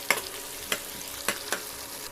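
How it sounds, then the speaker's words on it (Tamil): Small onions sautéing in oil for crab gravy sizzle steadily while a spoon scrapes the pan in four sharp strokes, close and moderately loud, with no voices. "நல்லா கலந்து கொடுத்துட்டே இருங்க. வெங்காயம் நல்லா பொன்னிறமாக வதங்கி வரட்டும்."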